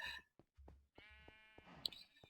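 Sheep in the Minecraft video game let out a few short, quiet, synthesized bleats in a sparse sequence among faint game sounds.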